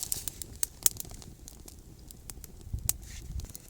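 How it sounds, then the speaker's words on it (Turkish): A freshly lit campfire of thin kindling twigs crackles and pops, with irregular sharp snaps over a low rustling burn, close and moderately quiet. "ve ateşimiz tutuştu."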